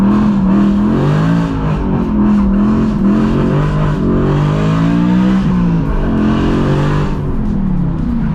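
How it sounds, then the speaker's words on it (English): A BMW E92 M3 drifting in the rain, its engine revving loudly and repeatedly, rising and falling in pitch as the throttle is worked, heard close up from inside the car. "that is ridiculously loud. I'm not used to driving a loud car anymore."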